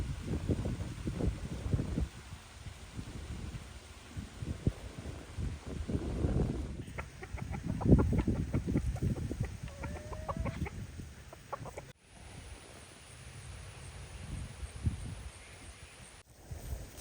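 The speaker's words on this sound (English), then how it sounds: "because I need more chickens." Chickens cluck continuously from a flock of about sixty-five birds, overlapping clucks and short calls of varied loudness with faint background noise and no talk.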